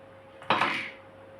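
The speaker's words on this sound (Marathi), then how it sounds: "याला इथे हलक्या हातानं असं चमच्याने मिक्स करत गाळून घ्यायचं आहे" Spoon working mint juice through a fine strainer, a single brief metallic scrape and clink near the middle that fades out against a quiet background.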